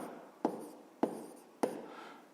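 A pen writes by hand in a notebook during a fifth-grade math exercise: three short, quiet scratching strokes at roughly even half-second intervals, close up, each fading quickly.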